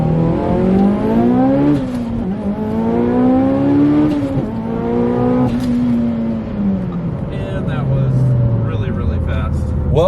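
A 700HP Mitsubishi Evo 8 drives and revs hard, with the engine repeatedly climbing through the gears, dropping on each shift, then surging again. It sounds close and loud and continues for about ten seconds.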